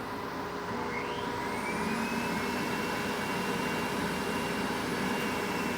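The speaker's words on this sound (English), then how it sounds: "the first thing we're going to do is turn on the exhaust blower" The exhaust blower on a Valenta 12 coffee roaster runs steadily, a continuous close whooshing roar with a whining tone that rises as it spins up, no talking.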